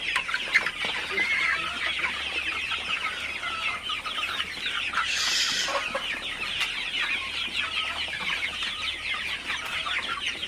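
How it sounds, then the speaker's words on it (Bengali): A flock of Sonali super hybrid chickens clucks and murmurs continuously while drinking fresh water at midday, the close, busy chatter of many birds overlapping throughout. "আপনারা দেখতে পাচ্ছেন মুরগিগুলো সব পানি খাইতেছে"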